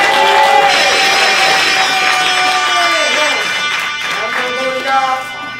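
Loud crowd at a rap battle tournament cheering, whooping and shouting in sustained waves, with a voice calling out over the noise before it tapers slightly at the end.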